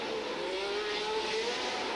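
1976 Formula 1 race cars racing, a sustained high-pitched engine wail with a slowly rising tone, loud and steady throughout.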